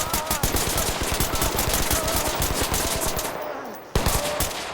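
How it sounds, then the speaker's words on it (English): Rapid automatic fire from an SR-16 rifle in the tactical shooter Ready or Not, loud and close, a continuous rattling string of shots that breaks for a moment before a final burst. "I gotta manage the recoil on my my SR-16"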